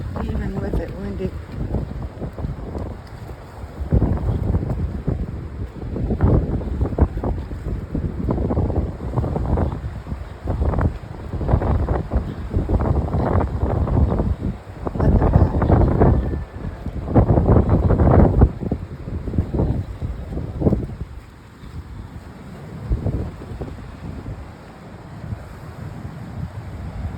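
Strong wind gusts buffet the microphone in loud, uneven bursts on an outdoor walk after morning rain, with a voice talking underneath and the rush of wind rising and falling.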